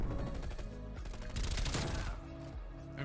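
Rapid bursts of automatic gunfire in Black Ops Cold War Team Deathmatch, dense and sustained, heavy volleys through the middle and a brief lull before shooting picks up again.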